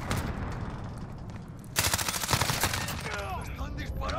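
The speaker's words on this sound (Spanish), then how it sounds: "¡Están disparando!" Gunfire erupts in a Call of Duty Modern Warfare Domination match, with a dense fusillade of rapid shots after a quieter stretch of background battle noise and faint voices.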